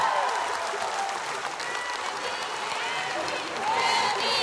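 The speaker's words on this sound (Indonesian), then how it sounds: "Berikan tepukan buruh untuk" A hall audience at a UMNO general assembly claps steadily for the Puteri wing leader, dense and sustained, swelling slightly near the end with a few faint cheers and voices in the crowd.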